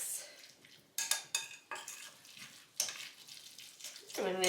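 A spoon scrapes and clinks in a pan as garlic powder and paprika powder are mixed into a sizzling dish, several distinct metallic strokes over a faint fry, with a brief voice near the end.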